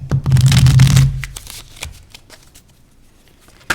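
Mantegna Tarot cards are shuffled close by in a loud, dense riffling burst lasting about a second, followed by quieter scattered card taps and slides.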